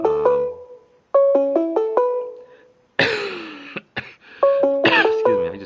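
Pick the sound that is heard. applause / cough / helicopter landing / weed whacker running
cough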